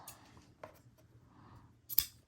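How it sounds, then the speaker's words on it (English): Soft rustling, then a single quick snip of ribbon scissors cutting ribbon near the end, close and quiet. "Let's grab our ribbon scissors, give it a nice cut."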